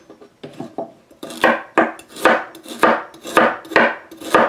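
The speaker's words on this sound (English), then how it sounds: "So I'm going to cut my pepper and then the carrots." A kitchen knife chops through pepper and carrots on a cutting board for a Ghana tomato stew, sounding as a steady series of about eight sharp, close knocks with a faint scrape after each, with no talking.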